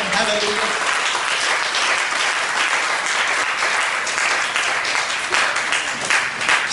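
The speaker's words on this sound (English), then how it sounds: "Let's clap for Him again one more time." A church congregation at a preaching service in the Philippines claps loudly and continuously, a thick, even wash of applause with no pause.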